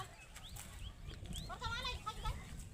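Goats bleating in a rural village setting, with a few short wavering calls rising midway through, heard under steady talking and outdoor background noise.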